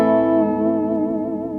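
A Reverend Airsonic electric guitar, clean tone, plugged straight in, rings out as a sustained chord with clear harmonics, decaying slowly and evenly without talk.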